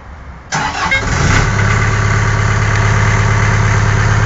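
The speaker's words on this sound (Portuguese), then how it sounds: "Agora vamos ligar o rolo compactador." A Caterpillar CA15 roller compactor's engine cranks and catches with a sudden loud burst, then settles into a steady, close, rumbling idle with constant vibration.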